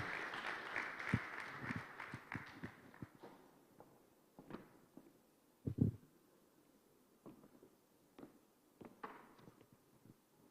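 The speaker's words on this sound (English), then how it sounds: "A round of applause for Mr. Alex as he makes his way here." Audience at a pitch day event applauds as a speaker walks up, with a burst of clapping that quickly fades into sparse, scattered claps and footstep-like knocks, fairly faint and distant.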